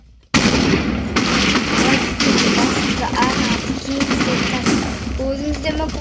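Explosions in the video game Minecraft, a dense, continuous crackling boom that bursts in suddenly and roars on loudly throughout, with voices faintly mixed in.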